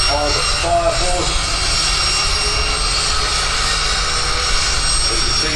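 The Fire Force jet dragster idles at Santa Pod Raceway with a loud, steady jet engine roar and broadband rumble that stays constant throughout, while a commentator talks over it.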